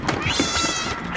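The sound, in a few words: cat meowing in the video game Stray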